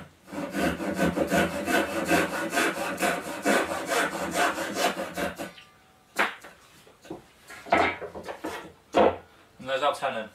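A hand saw not designed for cross-cutting rips through wood to cut a tenon, with fast, loud, close rhythmic strokes for about five seconds, then a few separate knocks and scrapes as the workpiece is handled.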